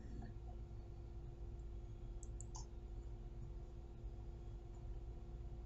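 A computer mouse clicking, a few faint, sharp clicks in a quick cluster midway over a steady low hum, with no talking.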